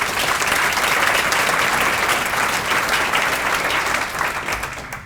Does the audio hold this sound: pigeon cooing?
no